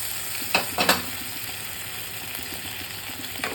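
Steady frying sizzle of a ginger, garlic and cumin paste in a pan, with a few sharp scraping clinks of a utensil near the start and end.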